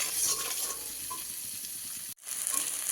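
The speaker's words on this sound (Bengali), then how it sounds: "মশলাটাকে এবার ভালো করে কষিয়ে নেব।" Spice paste with tomato pieces sizzles and fries steadily in a pan, a continuous close hiss that briefly drops out near the end before resuming.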